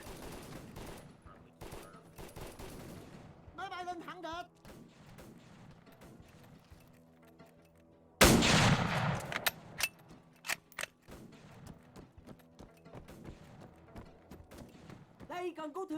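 Gunfire in the Vietnam-era shooter Operation Lea, a loud burst of overlapping shots around the midpoint followed by a few sharp single cracks, with quieter distant shooting and scattered game noise before and after.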